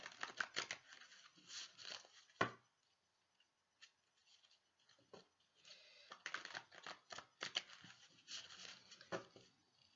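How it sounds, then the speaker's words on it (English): Quiet, close riffling and flicking of stiff cardstock cards being shuffled in short bursts, separated by a brief pause with a single sharp tap. "I'm going to shuffle these. They're cardstock."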